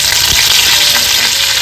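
Garlic and curry leaves sizzle loudly and continuously in hot oil, a close, dense crackling hiss as tempering is made for a Maharashtrian mackerel curry gravy. No one speaks.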